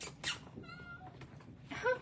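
A kitten at a cat rescue gives a few short, faint meows, one near the start and another near the end, with quiet room noise between.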